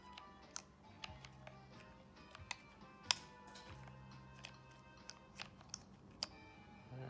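Sharp little clicks come from an N64 controller joystick as it is worked around. Roughly a dozen irregular ticks sound close up over a faint background hum, one louder than the rest.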